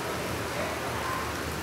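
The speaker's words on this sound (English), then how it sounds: "pretty big hail here." Large ice-cube-sized hail pelting down during a thunderstorm, a dense continuous hiss of impacts bouncing off a wet floor, steady and close with no pauses.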